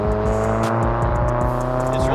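A car engine with an AWE Track Edition aftermarket catback exhaust revs and burbles up close, rising and falling in pitch.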